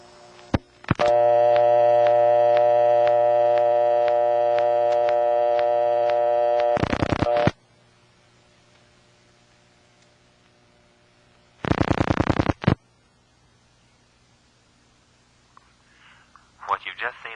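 Dialing 59 on a Bell System step-by-step exchange in Raleigh brings a steady, loud harmonic test tone that cuts off abruptly, followed by two short bursts of clicking step-switch pulses with quiet line hiss between.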